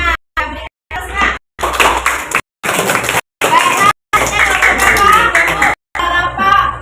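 A class claps for the first group after their presentation: bursts of children's hand clapping with a quick, rhythmic pattern, repeatedly broken by short silent gaps, with some voices mixed in.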